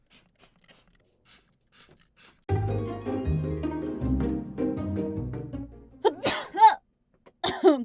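Quiet rustling, then a stretch of low, soft sound, followed by a few sharp, breathy bursts close up, like a sneeze and sniffs.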